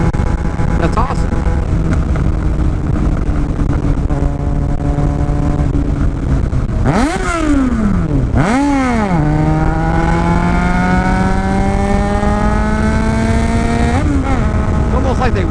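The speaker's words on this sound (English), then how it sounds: "here comes the motorcycle" A motorcycle on a back road drones steadily nearby, then revs sharply through several quick swells and settles into a rising engine tone as it passes close. Someone talks over it.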